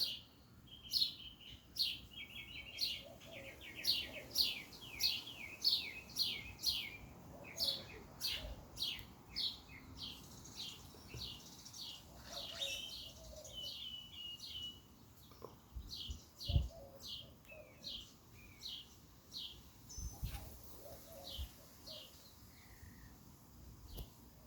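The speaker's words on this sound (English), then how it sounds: "hawk has come by, dove has come by, crow just flew by." In a quiet natural outdoor setting, small birds chirp in quick, repeated tweets while a crow caws a few times at a distance. The sounds are soft and spread across a calm background.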